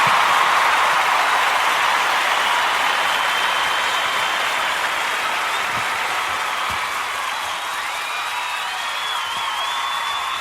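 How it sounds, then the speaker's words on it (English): An audience gives a round of applause on the Luke Howard show, a steady, loud wash of clapping that holds evenly for the whole stretch, with some faint cheering mixed in. "Oh, look, round of applause!"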